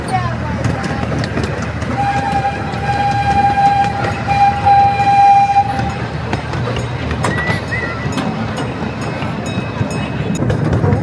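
Amusement park train ride rumble through City Park past live oaks, with a steady mechanical drone and a sustained whistle-like tone, voices chattering in the background throughout.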